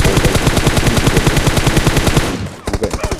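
Rapid automatic rifle fire, an M4, rattles loud and close in the PUBG battle royale game on the Livik map, a long sustained burst that stops briefly before a few more quick shots.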